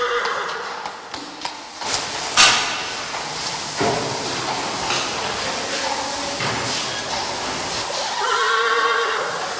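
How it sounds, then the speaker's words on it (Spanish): Horses in the eighteenth-century royal stables of a Copenhagen castle, with a clear whinny near the start among scattered hoof knocks and stable clatter, over a steady background wash. "se pueden visitar los establos del siglo XVIII, que alojan los caballos de la familia real"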